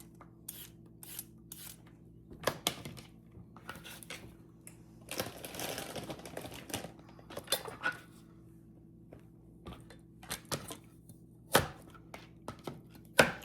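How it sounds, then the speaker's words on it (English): Carrots being chopped on a cutting board for chicken soup, knife strikes landing in irregular clusters of sharp taps, close and clear against a quiet kitchen with a low steady hum underneath. "I'm probably cutting too many carrot, or going to do too many carrots"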